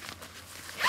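A quick tent zipper pull, close and crisp, rasping briefly as it opens.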